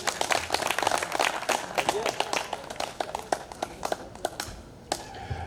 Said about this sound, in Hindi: एक बार उनके लिए तालियां बजाएं।